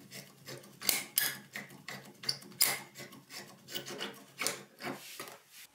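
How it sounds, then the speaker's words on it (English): Grit cloth is rubbed back and forth over the cut end of a copper pipe to remove a burr, a quick rasping scrape repeated in short strokes, close and fairly quiet. "Remove this burr with some grit cloth or fine sandpaper to reduce the chance of damaging the O-ring."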